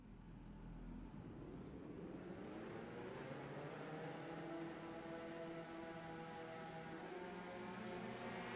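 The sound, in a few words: race car engines starting in a racing video game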